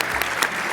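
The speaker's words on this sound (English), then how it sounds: "Let's give these models one more round of applause." A burst of audience applause for fashion models at a cultural closing celebration, a brief, dense clatter of many hands clapping close and loud.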